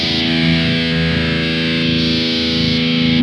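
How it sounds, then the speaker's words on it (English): A Korg Toneworks 104ds Hyper Distortion pedal with the mid control maxed shapes a loud, sustained, heavily distorted guitar chord that drones steadily for a few seconds with a slightly notched, swirling texture. "So I'm gonna max out the mid so you can get an idea of the range."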